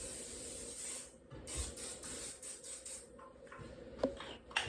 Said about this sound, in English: Shake it up nice and good and spray the whole pan.